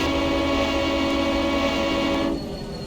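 A Western Pacific GP35 diesel locomotive idles and drones in Train Simulator Classic, a steady loud engine loop with a pulsing, wavering rhythm that drops slightly in level near the end.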